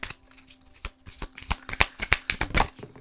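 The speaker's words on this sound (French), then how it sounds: "Je vais aller vous chercher une carte conseil." Tarot cards being shuffled by hand, a close run of quick riffling flicks and soft card slaps that grows busier toward the end.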